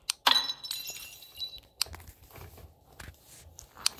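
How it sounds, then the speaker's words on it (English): Ceramic mugs fired from guns smash in Melon Playground, a sharp shattering crack near the start followed by a few scattered brittle clinks and smaller breaks, one more bright snap near the end. "Shooting mugs out of guns."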